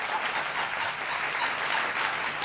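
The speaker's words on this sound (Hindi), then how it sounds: "तालियां जोर से बजा दो" Steady, dense audience applause at a poetry recital, moderately loud and even throughout, with no talk over it.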